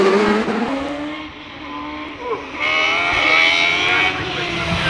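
A Nicholson McLaren V8-powered GR55B hillclimb race car at a British Hillclimb Championship event, its engine note rising and falling as it revs and shifts, loud and fairly close, with brief tyre scrub and faint background voices.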